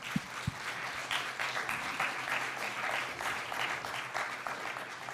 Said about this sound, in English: A round of applause for Filipa, please.